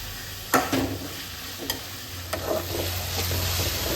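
Tomatoes soften in a hot pan with a steady low sizzle, punctuated by a few soft scraping strokes of a spoon stirring them, close and alone.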